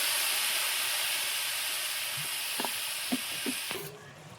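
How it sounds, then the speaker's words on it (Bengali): Water poured into a hot pan of village-style noodles sets off a loud, steady steam hiss that holds for several seconds, then drops away, with a few faint clinks near the end. "আমি এখন জল দেব, সামান্য পরিমাণ মতো জল দিব।"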